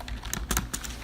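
Quick, uneven bursts of computer keyboard typing, close and fairly loud, a rapid run of clicks with no talking.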